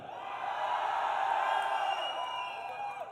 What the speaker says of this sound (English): And the crowd, well, clearly they're all pumped up.